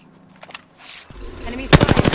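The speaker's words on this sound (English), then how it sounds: "The enemies are shooting at me." In Apex Legends, enemy gunfire rattles in a fast burst of rapid automatic shots that grows louder toward the end, with faint game sounds and a voice in the background.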